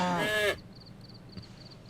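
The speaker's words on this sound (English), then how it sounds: "It always killed me that the second cow bawed like a sheep." A cow's moo in an animated comedy clip sounds like a sheep's bleat. It is a loud, wavering cry that cuts off after half a second, followed by faint background hiss.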